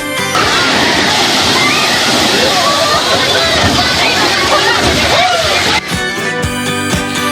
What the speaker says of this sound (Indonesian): Salah satunya di arena kolam renang ombak yang didominasi pengunjung anak-anak.